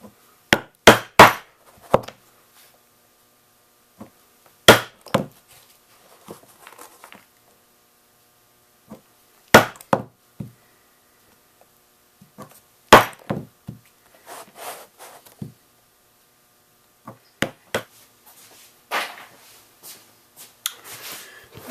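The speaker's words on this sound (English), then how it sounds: "we'll go ahead and punch our holes now. I have a hole punch, 3/8 of an inch." Sharp hammer blows drive a 3/8-inch hole punch through leather for a briefcase, coming in quick clustered strikes separated by short pauses, loud and close with no talk.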